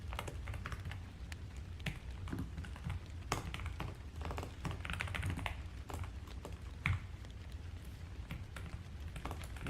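Rapid, continuous keystrokes on a computer keyboard while someone writes C code, close and steady throughout with no talking.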